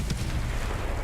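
Enemy artillery in Helldivers 2, a dense, loud barrage of thumping explosions that runs without a break through a brief moment.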